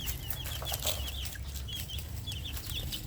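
A brood of selected chicks kept apart by sex peeps in repeated high, short chirps over a steady low background hum, fairly close and continuous.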